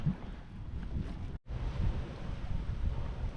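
Wind gusting beside a river during January fishing: a rough, rumbling buffet across the microphone, close and steady, broken by one sudden brief drop in the middle before it resumes.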